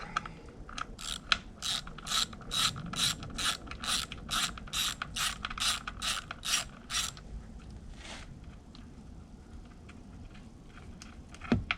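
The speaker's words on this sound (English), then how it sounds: "All right, so we're gonna take the top bolt out, right?" A hand ratchet loosens the top bolt on the oil tank of a 2006 Mercury Optimax 225 outboard motor, clicking in about a dozen quick, evenly spaced bursts up close, then stopping with only faint background noise.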